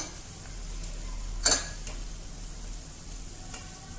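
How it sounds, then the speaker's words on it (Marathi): Stuffed bitter gourd (karela) going into a hot pan, with a faint, steady sizzle and one clear scraping clatter near the middle, followed by a few softer ticks. "आता आपण कारलं घालणार आहे आपण मस्त भरून घेतलेलं कारलं"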